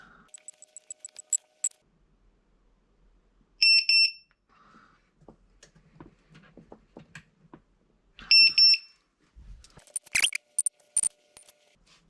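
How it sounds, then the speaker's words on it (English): Sharp electronic beeps from a Vifly Finder 2 drone finder alarm sound in two short bursts several seconds apart, amid quiet clicks and handling noises. "when we remove power, it should alarm"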